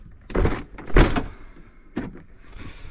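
A motorhome door is unlocked from the driver's side, with a couple of mechanical thunks and a whirring latch motor in short bursts, close and fairly loud.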